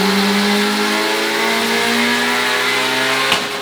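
Small Honda Civic engine revving hard on a dyno, a loud sustained whine that climbs steadily in pitch, heard from nearby and ending in a brief knock.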